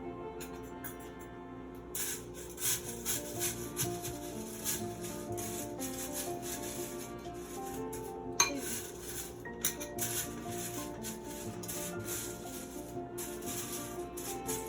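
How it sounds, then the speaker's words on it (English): Cornflakes chaat ingredients tossed together in a bowl, a steady dry rubbing and rustling with light clinks of a spoon against the bowl, continuous and close with no talking. "Let's mix all the ingredients together."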